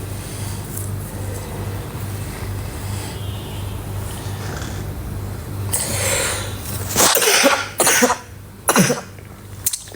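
A woman coughs in a cold night setting: several harsh, close coughs in quick bursts after a stretch of low steady hum and background noise, loud against the quiet start.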